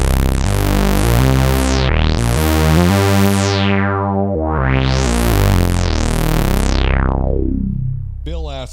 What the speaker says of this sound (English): Really beautiful squelchy type sounds.